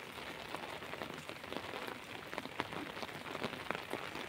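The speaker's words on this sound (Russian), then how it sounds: "Дождик капает." Rain patters steadily onto a surface, with scattered sharper drops tapping close by throughout.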